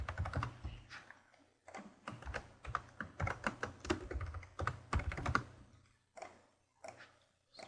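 Computer keyboard keys tap in quick irregular bursts, including the spacebar pressed to make a character jump in a basic Blender game, with close, crisp clicks and brief pauses between runs.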